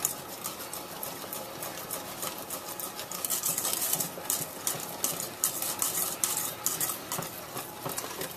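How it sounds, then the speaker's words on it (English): A metal whisk stirs no-bake oatmeal fudge cookie mixture in a metal pan, scraping the bottom in a fast, continuous rattling and clinking that stays fairly quiet throughout. "I always use a metal whisk to make sure that I'm actually scraping the bottom of the pan so nothing sticks and burns"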